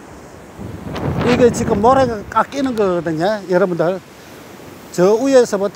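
Ocean surf during Typhoon Maysak washes sand off a beach, a rushing, wind-buffeted roar sitting under a man's loud, close talking.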